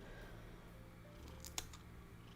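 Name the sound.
scissors trimming cat's toe hair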